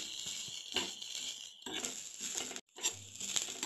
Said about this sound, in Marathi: आणि ह्या सगळा थोडा परतून घेते